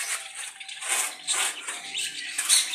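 Caged parrots and other pet birds chirp and squawk in short scattered bursts, fairly close, with bright thin calls over quiet background.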